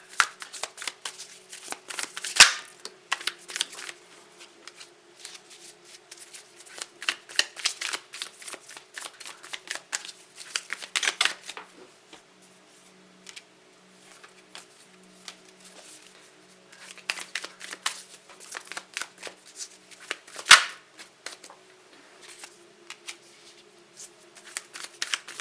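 Tarot cards are shuffled by hand in a quiet room, with repeated crisp riffling and flicking bursts spread over the whole stretch, a few sharper card snaps standing out, and no talking.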